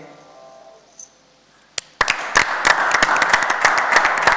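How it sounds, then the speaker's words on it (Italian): A television studio audience breaking into applause, a dense wave of clapping that starts after a quiet moment with a few isolated claps and stays loud and steady. "Tutto lo studio, questo applauso da parte di tutti"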